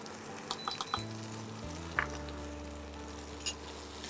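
Dried red chilli and black cumin sizzling in hot oil in a pan, a soft steady fry close by with a few light metallic clinks and taps of a utensil, no talking.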